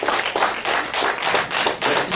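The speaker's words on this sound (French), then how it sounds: "Alors, une bonne main d'applaudissements pour Boris." Audience at a science-communication thesis presentation event clapping for a presenter, a dense burst of close handclaps with short pulsing swells.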